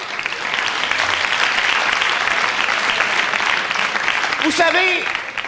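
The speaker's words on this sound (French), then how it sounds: "Alléluia, mesdames, messieurs, on l'applaudit" Studio audience at a 1994 Quebec comedy show applauds steadily, a dense wash of clapping that holds for the whole stretch and swells briefly near the end, when a voice cuts through.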